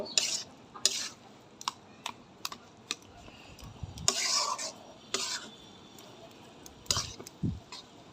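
A spatula scraping and tapping in a pan while ground shrimp paste masala fries with taro greens, giving irregular clinks and stirring strokes with a brief sizzle, close up and without talk.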